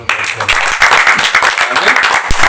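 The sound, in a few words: applause in church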